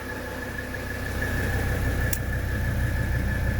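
A 1985 Mercedes 300D diesel engine idles at operating temperature, a steady close low rumble with a faint diesel clatter and a thin whine, holding even throughout with one brief click.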